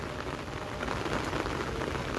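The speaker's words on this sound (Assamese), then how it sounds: "অলপ বৰষুণ বেছি হৈছে" Heavy rain falls steadily in rural Assam, a dense, continuous patter of drops on surfaces that stays even and fairly close throughout, with no voices.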